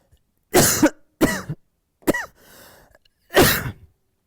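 Four harsh coughs in short bursts with a brief wheezy breath between them, close by and loud.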